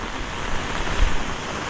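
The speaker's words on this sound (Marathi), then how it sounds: "आणि तिकडे एक छोटासा धबधबा." A small waterfall rushes during heavy rain in Konkan, making a continuous broad watery roar with slight swells.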